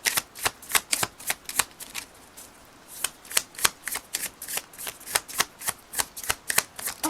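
Oracle cards being shuffled in quick repeated riffles, crisp rhythmic bursts of shuffling close by with short pauses between.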